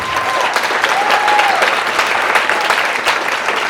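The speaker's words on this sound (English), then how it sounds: "we're going to give a little applause, because this family has put together an amazing evening." Wedding guests applaud during a best man's speech, a dense, steady wash of clapping from a full room that holds at the same loudness, with a few brief cheers or whistles rising above it.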